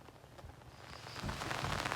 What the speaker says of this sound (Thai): ฟังเบิ้งทุกคนเลยฟังเบิ้งฝนนี่แหละ